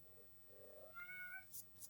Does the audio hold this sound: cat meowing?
yes